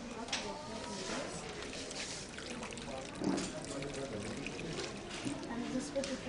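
Hot water is poured steadily into a homemade water cycle model topped with small trees and houses, a continuous trickling splash lasting several seconds under a busy room hum.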